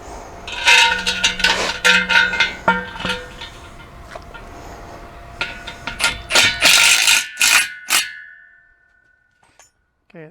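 A power driver fitted with a star bit drives bolts into a wrought iron gate post, sounding as repeated short bursts of whirring, ratcheting and metallic clanking with brief pauses in between, before the work goes quiet.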